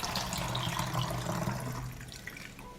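Water pours steadily into a fertilizer mixture, a close, continuous splashing gush that thins and softens toward the end, with no one talking.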